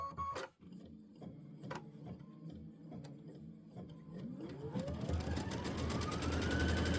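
Embroidery machine stitching a quilt block, a steady mechanical whir with rapid rhythmic needle clatter that builds in pitch and loudness toward the end, close by and without talk.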